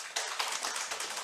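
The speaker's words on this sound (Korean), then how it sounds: "우리 박순덕 권사님, 이미연 집사님, 이수진 집사님, 조병희 집사님을 위해서 격려 박수하겠습니다" A church congregation claps in encouragement during Sunday morning announcements, a short burst of scattered, fairly quiet hand claps from a small crowd lasting just over a second.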